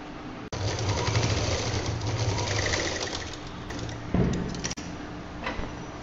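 A sewing machine runs steadily while stitching a cloth shoulder bag, with a continuous close, loud mechanical whir. Near the end it briefly stops and then starts again.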